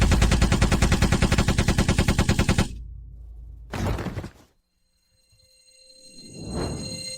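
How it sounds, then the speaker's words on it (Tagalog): A shoulder-braced gun fires a fast, loud automatic burst of rapid shots for nearly three seconds, then a single heavy blast and a fading rumbling tail, with no voices. "Ang galing ng pagbaril, Ben."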